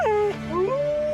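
Wolf in an animated cartoon giving sliding yelps that rise into a long, loud, close howl, heard alone without talk.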